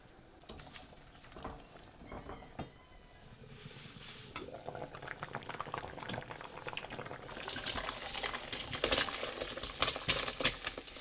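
A pot of vegetables and peppers simmers and bubbles as it cooks down, soft popping and liquid patter starting quiet and growing denser and louder toward the end.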